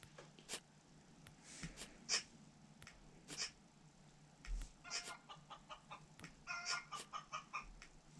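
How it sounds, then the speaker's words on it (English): Chicken clucks and rooster-like calls come in short, irregular bursts, fairly close but not loud, with scattered bright chirps over a quiet background and no talk. "I hear a chicken."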